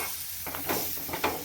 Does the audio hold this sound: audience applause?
no